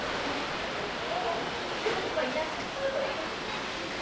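Continuous broadband wash of sea waves near a beach resort, a steady surf roar without distinct breaks, moderately loud and alone.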